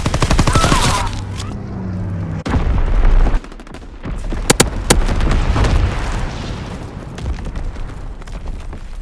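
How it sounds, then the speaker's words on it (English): Incendiary bombing and gunfire in a war video game: a sharp opening burst of rapid shots, then heavy booming impacts and scattered gunshots cracking over a rumbling, fiery background. "Dropping incendiary"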